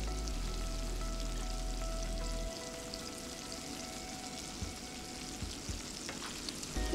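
Finely chopped garlic sautéing in a hot pan, a steady close sizzle with light stirring clicks, continuous and without talk.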